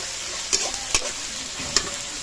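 Onion and ginger-garlic paste sizzle steadily in a hot pan, with a few sharp scraping strokes as a utensil stirs the mixture.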